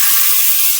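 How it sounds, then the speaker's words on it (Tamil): Onions sizzle steadily in a hot pan while pepper chicken gravy is being made, a loud, close, unbroken hiss with no voice over it. "வெங்காயம் வந்து வதங்கிட்டு இருக்குது"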